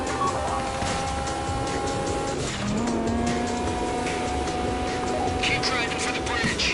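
Car driving in a video game, a continuous engine whine that shifts pitch mid-way as the car accelerates, with a brief tire squeal, under steady talk.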